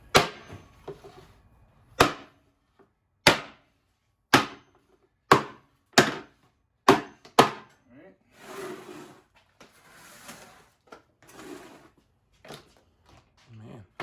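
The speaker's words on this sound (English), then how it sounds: "So that you don't damage your actual lid, hit just the wood." A wood block struck hard to force open a plastic food storage bucket lid, seven sharp loud knocks at uneven intervals, then quieter rustling and handling sounds with faint talk toward the end.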